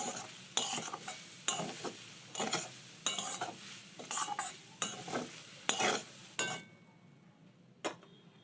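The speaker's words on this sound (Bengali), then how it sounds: "খানিকক্ষণ এভাবে শুকনো কড়াইতে একটু ভেজে নেব।" Grated coconut being dry-roasted in a dry wok, with repeated scraping stir strokes about once a second and a light crackle between them, close by and with no talk.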